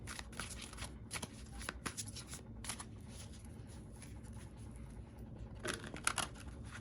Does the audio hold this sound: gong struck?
no